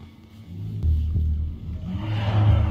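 A car engine revs hard, building from a low rumble into a loud, rising roar that swells twice and holds near the end, with no talking over it.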